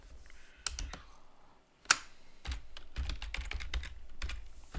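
Keys clatter on a computer keyboard in quick irregular bursts of typing, close and clear, with a single louder clack partway through and no voices.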